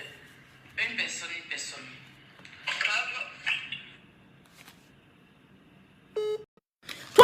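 Electronic beeps from a phone call cutting into a WhatsApp live stream, a short tone burst near the end standing out after stretches of speech.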